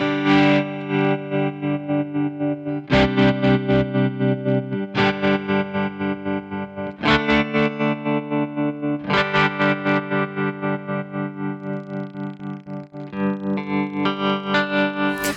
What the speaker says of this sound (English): if you want to go to like a square wave tremolo that's more abrupt, you can do that